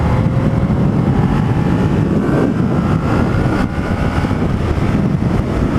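A 2017 Kawasaki Z650 motorcycle engine, restricted for A2 licence, drones steadily and loud up close in third gear, pitch rising gradually as it accelerates, with wind rushing over the microphone.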